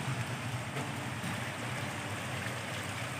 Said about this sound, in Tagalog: umuulan dito